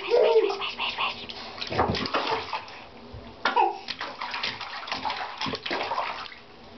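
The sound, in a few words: child splashing water in a bathtub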